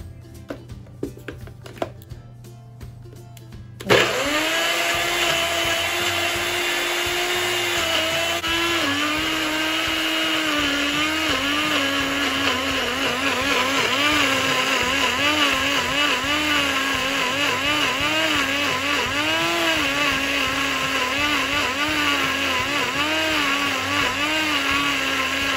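A blender blends beetroot, a steady loud motor whir that starts abruptly after a few seconds of quieter kitchen noise and holds for over twenty seconds with slight wavering pitch.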